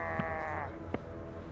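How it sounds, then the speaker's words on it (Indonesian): A goat in the Devour horror video game gives a drawn-out, wavering bleat lasting over half a second, followed by a brief fainter second cry, heard alone with no talking. "Ini kambing ah, ini kambing."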